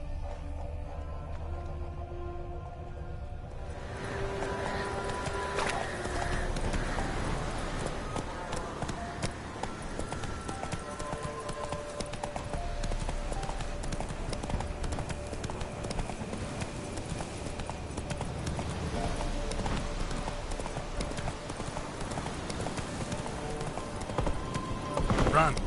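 Roach, the horse in The Witcher 3, runs with steady, continuous hoofbeats under game music and ambience, with a voice speaking now and then over the galloping.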